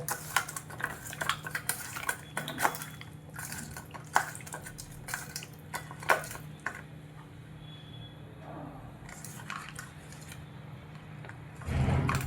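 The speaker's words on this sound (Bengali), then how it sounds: "তো মাছটাতে আমি লবণ হলুদটা মাখিয়ে নেব।" Soft, irregular clinks and scraping taps of a utensil against a bowl while fish pieces are rubbed with salt and turmeric, close and quiet, with a brief louder rustle near the end.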